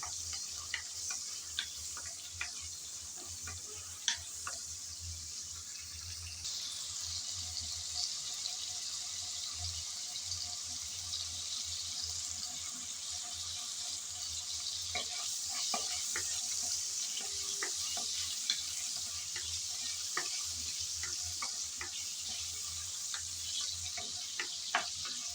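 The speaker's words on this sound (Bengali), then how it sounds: "দুই তিন মিনিটের মতন নেড়ে চেড়ে চিংড়ি ভেজে নিলাম।" Prawns stir-frying in lightly heated oil give a faint, continuous sizzle with scattered small ticks of a spatula moving them around, steady over a long stretch with no voices.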